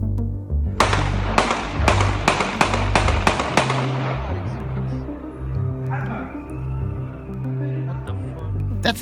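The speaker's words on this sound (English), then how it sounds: "That's the sound of a man being shot outside his home," A man being shot outside his home, captured by a nearby witness: a rapid string of about eight sharp, loud gunshot cracks in quick succession, followed by ringing echoes and a lower rumbling background that fades afterward.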